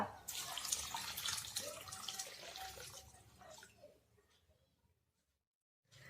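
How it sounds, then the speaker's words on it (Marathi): Water pours steadily into a bowl of washed barnyard millet and sago for about four seconds with a bright, splashing rush, then trickles off and falls silent. "आता आपण यामध्ये पाणी टाकूया"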